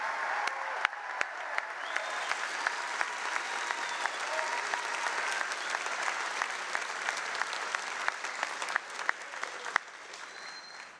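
High school graduation audience applauding its three student speakers, a sustained, even round of clapping from a large crowd, moderately distant, with a few sharper claps standing out.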